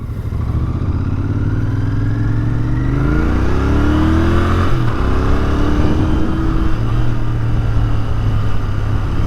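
A small, slightly rusted golf cart passes nearby, its motor droning loud and steady, rising in pitch and then settling as it goes by.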